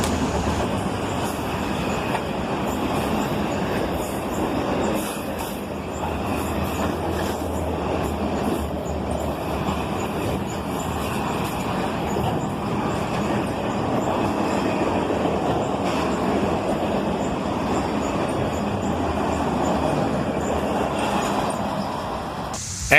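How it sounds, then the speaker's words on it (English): A long CSX freight train rumbles steadily past nearby at night, with continuous rolling wheel noise and faint metallic squeals, no voices. "And the end of the train is in sight."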